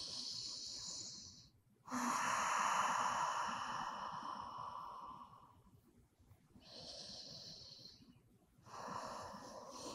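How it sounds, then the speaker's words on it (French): Deep breaths taken during a yoga session, drawn in and released in long airy swells with pauses of near silence between them, close and fairly soft. "Encore une ou deux respirations profondes."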